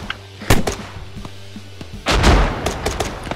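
Weapon fire aimed at a target during a military operation, with an armored vehicle in view: two heavy booming shots, a sharp one early and a louder, longer blast about halfway through, over a steady low engine-like hum.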